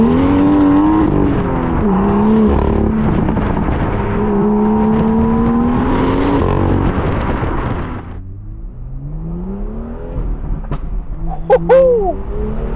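A BMW F87 M2 with the turbocharged N55 engine accelerates hard, its loud rising engine note climbing through gears, then easing off into quieter shifting tones with sharp pops and crackles toward the end.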